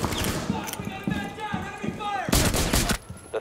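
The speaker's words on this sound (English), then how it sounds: "they're shooting me in the smoke" Gunfire in Rainbow Six Siege during a Terrorist Hunt match: scattered sharp shots, then a loud, dense burst of fire near the end, with a voice talking over the middle.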